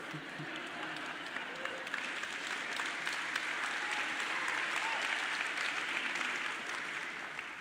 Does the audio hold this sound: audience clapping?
yes